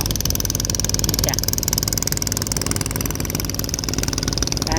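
Long-tail boat engine at a Thai river mouth by the sea, a steady droning motor running continuously close by, with someone talking over it.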